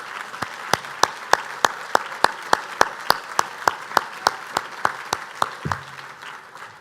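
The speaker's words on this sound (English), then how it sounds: "I want to ask them to stand so we can give them our applause." A standing audience at an awards acceptance speech claps in steady unison, a rhythmic beat of loud, sharp claps over a bed of scattered applause, heard alone without talking.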